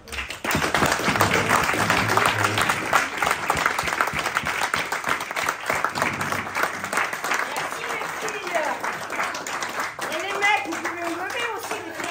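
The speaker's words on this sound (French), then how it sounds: "Je voudrais vous applaudir, Madame et Madame." An audience at an evening school academy ceremony in a vocational high school claps loudly and at length, with distinct individual claps over the crowd and voices talking beneath, fading to scattered clapping and speech near the end.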